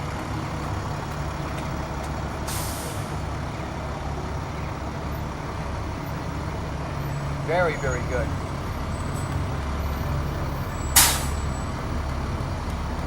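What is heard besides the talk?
parade trucks driving by, air brakes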